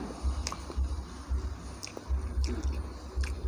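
Someone bites and chews a crispy instant noodle omelette dipped in tomato sauce, close soft crunches and squishy mastication in a steady rhythm of about a dozen bites and chews.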